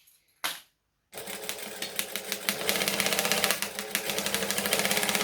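A sewing machine runs steadily on a Raggabrash bag, stitching along the lining turned right side up, with a fast, continuous mechanical whir after a brief start-stop at the beginning.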